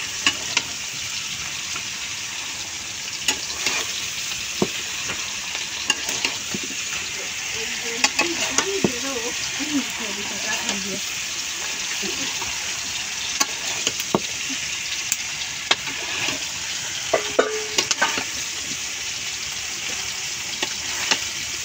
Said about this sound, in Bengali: এখন সবগুলো আম একসাথে মশলার সাথে মিশিয়ে তারপরে ভুনা করে চিনিটা দিয়ে দেব।